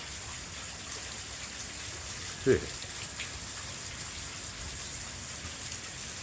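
Steady rain falls outdoors during Hurricane Milton, a constant soft hiss of drops at moderate level, with a brief spoken exclamation partway through.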